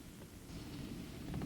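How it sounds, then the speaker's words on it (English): Wind-driven rain blowing over a bluff beside a parking area, a steady broadband roar with gusty low rumble that swells louder toward the end, no voices. "the rain is blowing right at us, so this is pretty bad"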